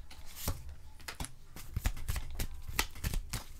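Oracle cards being shuffled and drawn by hand, quick papery riffles and flicks in an uneven rhythm, close and fairly loud with no talking.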